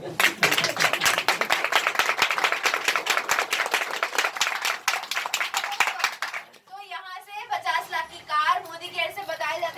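Audience clapping at a Hindi-language stage event, dense and fairly loud for about six seconds before dying away, followed by someone speaking.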